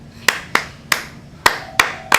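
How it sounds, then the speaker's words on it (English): Six loud, sharp hand claps spaced slowly and deliberately about a third to half a second apart, close up with nothing else behind them, a mock slow clap at the opening of the Shmaltz Shop beer episode. "Slow clap."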